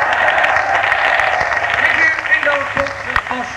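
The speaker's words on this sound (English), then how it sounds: "Can we have a small round of applause for a bunch of people down the front just there, please?" A crowd at a 1986 rock concert at Knebworth Park applauds and cheers loudly for the people at the front, with the noise tailing off into scattered shouts and a voice on the PA.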